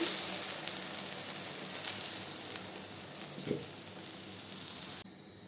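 Milk hitting caramelized sugar in a pan, a strong broad hiss that slowly eases over several seconds, with one soft clink partway through, then cutting off abruptly near the end.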